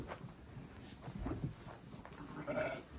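A ram bleats a few times nearby, low and rough, with faint shuffling and outdoor background noise around it.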